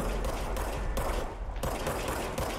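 Rapid gunfire from a gun in the video game Control, a dense continuous burst of shots lasting a few seconds, steady and moderately loud with no voices.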